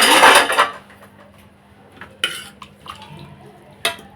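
Cooked mutton gravy being stirred in a metal pot: a loud burst of utensil scraping and clatter at the start, then quieter scattered clinks and knocks against the pot.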